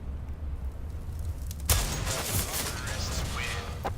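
Gunfire from a Desert Eagle pistol in a Counter-Strike: Global Offensive match on Nuke: a sharp loud shot lands near the middle, with game noise and faint commentary chatter around it.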